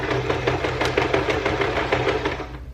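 A sewing machine stitches along the edge of fabric for a baby burp cloth, with a fast, even mechanical chatter that holds steady, close and fairly loud, before easing off at the end.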